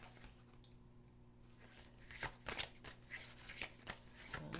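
Tarot cards are shuffled by hand during a card reading, making faint, soft riffling and pattering bursts over a quiet room hum, growing busier toward the end.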